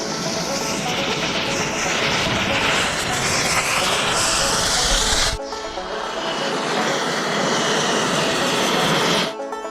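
A blowtorch heats a flywheel ring gear set on wood, giving a loud, steady roaring hiss that runs continuously, cuts briefly near the middle, then resumes until stopping near the end.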